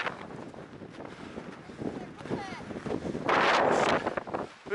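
Strong winter wind on the Śnieżnik mountain trail buffets the microphone in a low, rumbling roar, swelling into a harsher gust near the end, with faint muffled voices underneath.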